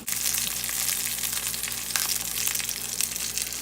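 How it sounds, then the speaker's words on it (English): Tuna steaks frying in a hot pan, a dense steady sizzle and crackle, close and loud, with a low kitchen hum beneath and no talking. "now that the tuna is cooking nicely"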